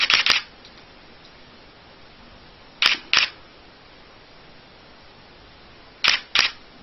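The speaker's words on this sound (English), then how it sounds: "So what you're hearing here is the 10-shot buffer that's built into the camera has been exhausted," A DSLR shutter fires at 1/8000 second in three spaced pairs of sharp, crisp clicks as the buffer fills, close and alone over quiet background.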